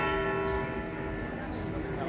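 The bell ringer figure on a giant cuckoo clock in Switzerland strikes its bell, a sustained metallic ringing tone heard at moderate distance under someone talking.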